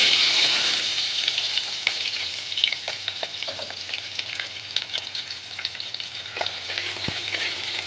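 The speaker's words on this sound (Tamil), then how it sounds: "எல்லாம் பொரிஞ்சிட்டு இப்போ வெங்காயம் போட்டுக்கிடலாம்." Small onions, about a cup, frying in hot oil in a pan for a mansatti chicken kulambu, a steady loud close sizzle with occasional scrapes and crackles throughout.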